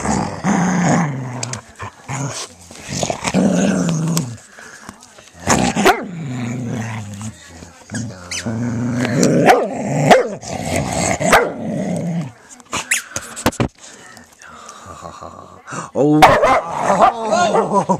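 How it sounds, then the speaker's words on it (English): Rhodesian-beagle mix dogs fighting over a toy: close growls, snarls and sharp barks come in bursts with quiet gaps, mixed with people talking and laughing. "Savage dogs."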